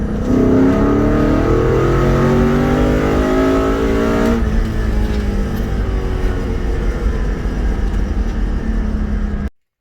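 A car engine fitted with an upgraded Boss 290 intake plenum, idling steadily and loud up close, its note rising briefly then settling back to a smooth rumble before cutting off.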